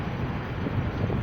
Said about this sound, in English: It's a beautiful windy day